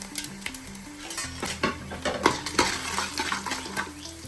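Dried red chillies, coriander seeds, fenugreek and lentils roast in a pan for an Onam sambar: a soft sizzle with repeated scraping and stirring clinks of a spoon against the pan, over faint background music.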